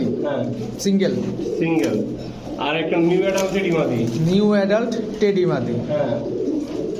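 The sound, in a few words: Shahranpuri and Teddy pigeons cooing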